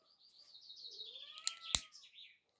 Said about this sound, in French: vous entendez Lucky, tout le temps en train de me piailler, celui-là, il m'agace.